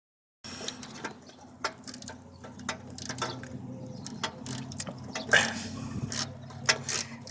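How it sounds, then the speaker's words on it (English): A hand ratchet clicks as it turns a bolt off a PT Cruiser GT engine during a blow-off valve install, with irregular, quiet bursts of clicks over a low background hum. "all you do is just put the ratchet where the bolt is and just twist"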